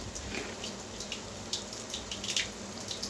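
Water running steadily from a tap or being poured into a cooking pan of meal maker and tomato curry, a continuous close splashing stream with faint spatter and no talk.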